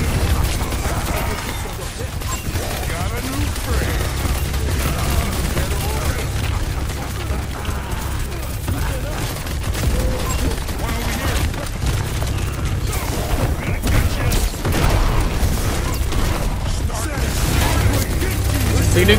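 Video game gunfire rattles almost without pause, mixed with booms and crashes of battle. Dense and loud throughout, with voices in the background.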